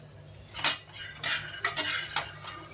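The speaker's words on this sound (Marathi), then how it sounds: "आता शेंगदाणे आपले भाजायला ठेवलेत." Peanuts dry-roasting in a pan for tilgul, stirred with a metal spatula that gives four or five sharp clinks and scrapes against a soft steady background, close and fairly quiet.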